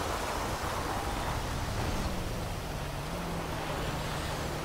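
Steady wash of rain and a car engine in Grand Theft Auto V, a broad even hiss with a low engine drone and faint tonal hum running underneath throughout.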